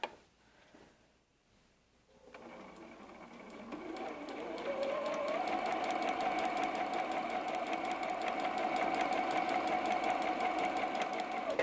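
Sewing machine stitching pieced fabric seams for a diamond point quilt pattern, starting after a quiet moment and settling into a steady, rapid mechanical whir.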